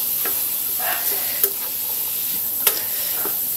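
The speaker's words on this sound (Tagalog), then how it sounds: "Haluin natin." Kangkong stalks stirred with oyster sauce in a frying pan, a steady sizzle under a few scraping spatula strokes, close and alone with no talk.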